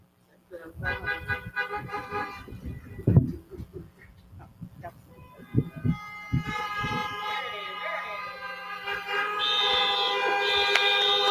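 Car horns honking and a siren at an outdoor drive-by 8th grade graduation, starting as scattered toots and building to a sustained mix of horns and siren, with voices talking over them.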